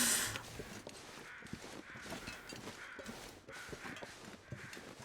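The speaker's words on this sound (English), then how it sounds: "those crows were making all that noise" Crows caw repeatedly in a video game, a steady series of harsh calls at a moderate distance, with soft thuds and rustles between them.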